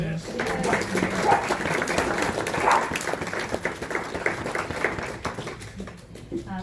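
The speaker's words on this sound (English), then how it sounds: "I first want to encourage you all to give a round of applause for our cellist tonight, Veselka," An audience at a gallery talk claps in a steady, sustained round of applause for a cellist, with a voice speaking faintly through it.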